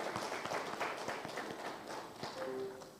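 Audience applause for the panelists at a Nairobi convening on cervical cancer and HPV vaccination, a steady patter of many hands clapping throughout, fairly close, with a faint tone near the end.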